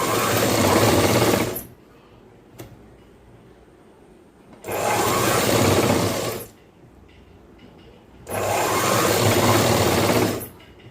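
Sewing machine stitching a boys' school uniform shirt runs in three loud, steady bursts of a second or two each, separated by quieter pauses, with no one talking.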